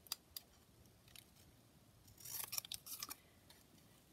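Scissors snip through a paper craft piece with quiet close crisp cuts, sparse at first and then a quicker cluster of snips, with no talking.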